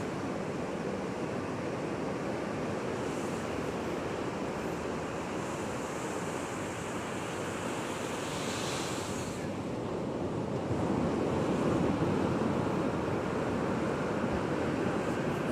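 Ocean waves break on the shore in a steady roar of surf, with heavy wind buffeting the microphone and a slight swell of louder wash near the end.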